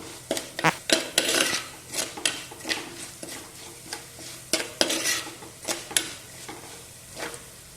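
A utensil scrapes and clinks against a pan as chili powder is stirred into a bitter gourd pickle, giving repeated rhythmic strokes over a faint sizzle, up close and with no talking.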